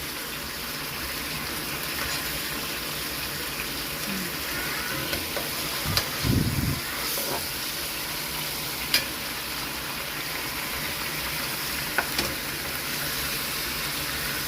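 Marinated chicken pieces sizzle over a charcoal grill in a steady, close hiss that runs throughout, with a few faint pops and crackles rising above it.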